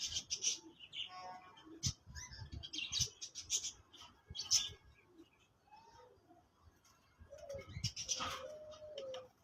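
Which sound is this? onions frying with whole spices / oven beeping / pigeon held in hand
pigeon held in hand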